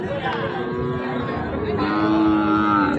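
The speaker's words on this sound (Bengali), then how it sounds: "খুবই চঞ্চল প্রকৃতির গরু" A Sahiwal cow at a busy cattle market lets out a long, loud, close moo that drones steadily for several seconds over a faint murmur of people.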